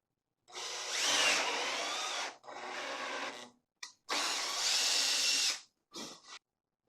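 A power drill drives screws into a wooden table saw fence in a workshop, several loud whirring bursts of one to two seconds separated by short pauses, the last one brief.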